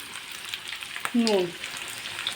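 Chopped onion with salt fries in a pan, a close soft sizzle running throughout with a brief stirring scrape in the middle and a faint voice fragment.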